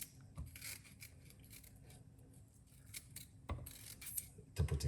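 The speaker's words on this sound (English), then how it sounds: "I have just a little piece of a ginger. I'm gonna cut up this" A small piece of ginger is cut with a knife in a kitchen, giving a few soft, sharp chops and taps against a board. The cuts are quiet and scattered, with a louder cluster near the end and no talking.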